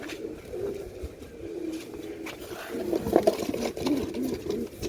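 Female and male pigeons of a Sialkoti pearl-marked pair coo in low, repeated bursts, strongest around the middle of the stretch, against steady background noise and faint indistinct voices.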